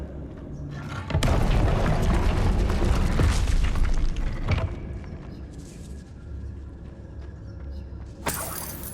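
Incendio fire spell cast in Hogwarts Legacy: a loud whooshing, roaring burst of flame with rumbling impact that swells then fades into a lingering crackle, followed by a sharp bright flare near the end.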